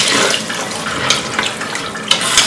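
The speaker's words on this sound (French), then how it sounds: "Maintenant que le riz est bien frit, je viens maintenant rajouter de l'eau." Water poured into a hot pan of frying rice, a steady broadband splashing hiss lasting throughout, loud and close, with small bursts of sizzle.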